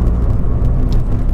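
A Toyota Yaris TS engine revs hard past 4000 rpm, a loud, close, continuous low engine roar throughout the short moment.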